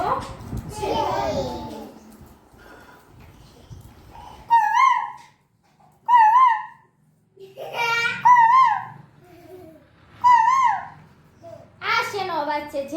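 A voice imitates the call of a myna bird in several short warbling whistled phrases, repeated with pauses, while a child and an adult talk between the calls in an anganwadi bird-identification lesson.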